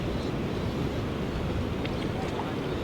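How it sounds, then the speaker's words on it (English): Ocean surf pounding on a beach near the Sandon River, a steady broadband wash of breaking waves mixed with wind buffeting the microphone, loud and unbroken. "Waves out there, surf's going ballistic."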